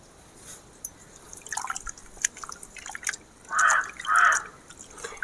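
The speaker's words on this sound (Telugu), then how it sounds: "ఇప్పుడు దీన్ని గుజ్జులాగా చేసి ఈ కూరగాయ ముక్కలలో అయితే పోసేస్తున్నా" Soaked tamarind pulp, squeezed to a paste, drips and splashes onto cut vegetable pieces for a brinjal and dry fish curry, close and wet, with scattered drips and two fuller pours near the end.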